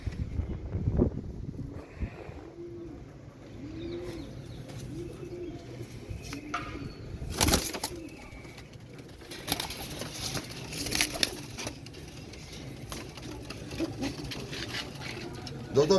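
Royal Teddy pigeons coo softly in a loft collection, low rolling coos repeating under a busy background of rustling, wing flutters and occasional sharp knocks, fairly faint overall.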